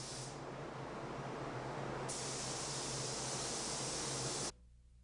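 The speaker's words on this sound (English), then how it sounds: "The next step is to spray primer on all the parts that are going to be painted." Continuous loud hissing from a spray can of primer on John Deere tractor metal parts runs for several seconds, brightening partway through, then cuts off, leaving a quiet hum.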